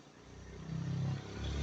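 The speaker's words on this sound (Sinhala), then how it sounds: "බයික් එකක් එන්නේ." A motorbike approaches along a road, its engine rising from faint to louder over a second and a half, a low rumble that builds steadily with no talk over it.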